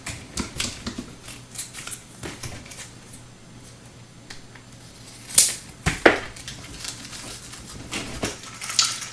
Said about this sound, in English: I can probably trim a little bit more off there.